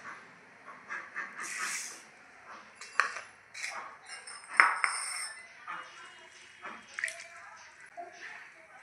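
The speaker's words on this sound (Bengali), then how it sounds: "প্রথমে আমি ডাল, মুসুরির ডাল আর মটর ডাল দুটো একসঙ্গে ধুয়ে নেব।" Masoor and pea lentils are washed together in a village kitchen, with soft splashing and sloshing of water, light clinks of a pot, and intermittent quiet sounds close by.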